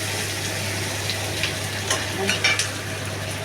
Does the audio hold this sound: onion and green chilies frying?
yes